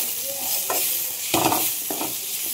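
Eggplant chutney with tomatoes fries in a pan, a continuous sizzle broken by several scraping stirs of a spoon, close and moderately loud with no talking.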